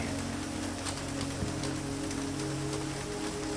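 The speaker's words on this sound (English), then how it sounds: "The rain outside carries everything away." Rain falls steadily outside a rooftop greenhouse, an even hiss with scattered droplet ticks and a faint low drone underneath.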